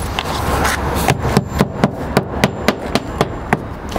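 Galvanized ring shank nails driven into a roof vent on a shingle roof, with a run of about ten sharp, evenly spaced hammer blows up close that follow some initial rustling, and no talking.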